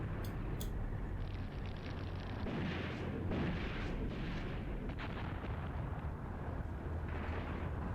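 Repeated gunfire booms from a gun in the WWII tactics game Graviteam Tactics, a run of heavy shots over a dense, rumbling battlefield background with no talk.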